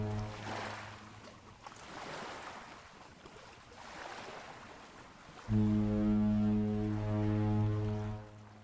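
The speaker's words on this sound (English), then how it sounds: "Sounds like a boat." In a video game, surf washes in slow swells, then a boat's loud, deep foghorn blares and holds steadily for several seconds before fading.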